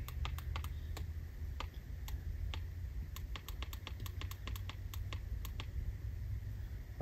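Rapid, crisp key presses on a battery tester enter settings for a regular flooded battery, quiet clicks tapping in irregular bursts at close range against a faint background hum.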